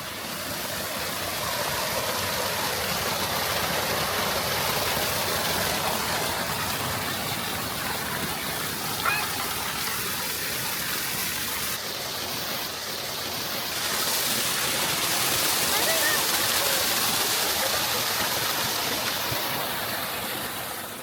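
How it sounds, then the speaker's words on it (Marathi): A stream flowing beside the ancient rock-cut Vimaleshwar temple at Devgad, a steady, even rush of running water that continues unbroken for about twenty seconds, with no voices. "किती साफ पाणी आणि या झऱ्याचा आवाज आणि हे शांत वातावरण"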